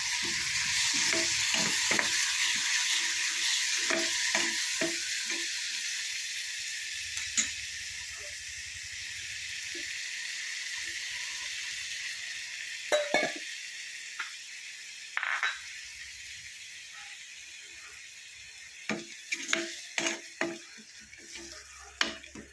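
Masala frying in a pan for a Kerala spinach dish, a steady close sizzle and hiss broken by scraping and clinking as a spoon stirs it now and then.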